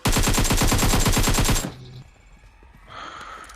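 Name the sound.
gunfire in the video game PUBG Mobile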